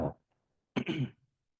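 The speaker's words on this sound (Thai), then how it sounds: "ขอกระแอมนิดนึงนะครับ" A single close throat clearing, a short rough burst after a brief trailing sound, then silence.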